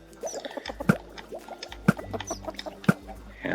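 Chickens clucking in the Minecraft video game, a lava chicken stand build, with three sharp repeated clucks about a second apart over a busy background of game sounds and soft bird noises.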